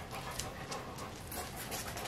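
A dog pants close by in quick, steady, breathy rhythm, the rapid huffs running continuously with no talk over them.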